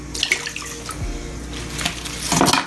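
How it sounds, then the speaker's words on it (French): Coarse-salted water is poured over cabbage in a container while making kimchi, a close, continuous splashing and trickling with a few brief clinks. "Après, je vais ajouter un petit peu de l'eau gros sel"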